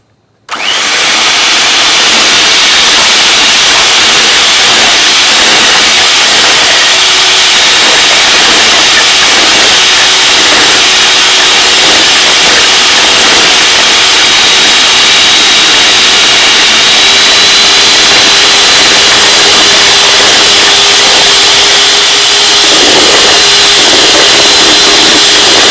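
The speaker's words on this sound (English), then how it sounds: "now we'll beat the egg white" An electric mixer beats egg whites for a Filipino egg pie, a loud, steady high-pitched whir that starts abruptly and runs unbroken and close for the whole stretch.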